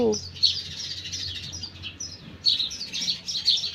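Sparrows chirp in quick bursts around a village farm plot planted with cumin. The tweets are light and moderately distant, with steady background hiss between the bursts.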